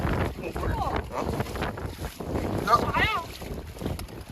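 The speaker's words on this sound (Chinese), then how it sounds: "今天晚上是大风，起来这个风也不小啊" A strong night wind blows on a boat during a fishing trip, rumbling and buffeting the microphone steadily while people talk over it.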